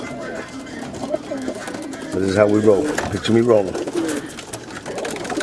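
Young racing homing pigeons coo softly in a loft, their low rolling calls running under a man's speech throughout.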